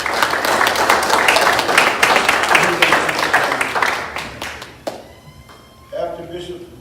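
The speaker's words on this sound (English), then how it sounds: "Just clap your hands." A church congregation clapping hands in welcome, loud and dense at first and then thinning out, with voices coming in near the end.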